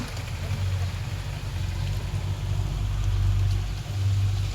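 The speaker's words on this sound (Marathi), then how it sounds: "मी म्हणते इतका पाऊस चालू आहे" Heavy monsoon rain pours down outdoors in a steady, dense hiss, with a low droning hum running beneath it throughout.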